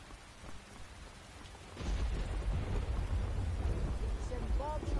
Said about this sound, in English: thunderstorm's starting to let up. Well, if it stops raining,